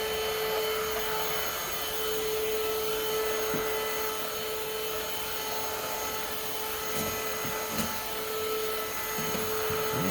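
Greenote GSC40 cordless vacuum cleaner running over an indoor floor, a steady whining motor hum with a sharp tonal pitch and faint intermittent clicks and bumps, close and continuous throughout.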